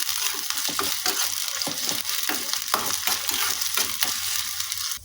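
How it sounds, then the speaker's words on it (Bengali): Finely chopped medium onion fries in hot oil with a loud, continuous sizzle, broken by rhythmic scraping and stirring strokes, heard up close without any talking. "পেঁয়াজটাকে তেলে ভেজে নিচ্ছি।"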